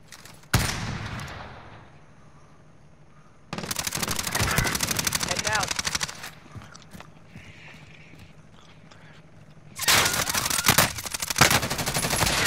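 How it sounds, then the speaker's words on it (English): Gunfire in Call of Duty: Modern Warfare, loud bursts of rapid shots in several clusters with quieter gaps between, heard alongside game ambience. "There's shooting to our right somewhere."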